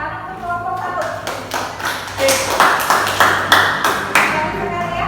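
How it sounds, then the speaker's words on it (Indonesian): A classroom of students claps for a group after its presentation. The claps come as a loud, close, uneven patter with sharp individual hits and a steady background hum. "Kita berikan tepuk tangan untuk kelompok 1."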